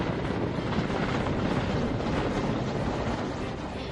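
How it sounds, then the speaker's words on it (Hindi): A firefighting helicopter carrying lake water over burning forest near Bhimtal produces a constant, loud rotor and engine drone with wind-like rumble and no pauses. "भीमताल के जंगलों में भी लगी आग को बुझाने के लिए हेलीकॉप्टर की मदद ली जा रही है"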